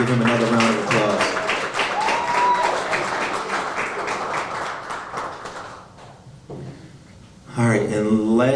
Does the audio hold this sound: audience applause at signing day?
yes